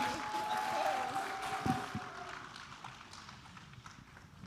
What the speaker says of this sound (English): One more time, a round of applause for our Honorable peer.